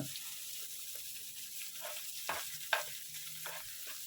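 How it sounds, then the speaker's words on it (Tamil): Two medium onions sautéing in a pan for egg rice, a soft, close sizzle broken by repeated stirring scrapes and a sharp utensil tap, with no talking. "இந்த வெங்காயத்தை வந்து நல்லா வதக்கிக்கலாம்."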